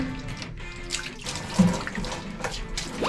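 Cold, clear spring water running over rocks at a slippery hillside source, a steady splashing babble close by with no talking.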